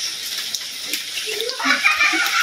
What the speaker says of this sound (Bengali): এই যে বাইরের পরিস্থিতি খুব একটা ভালো না, এই যে পানি পড়তেছে।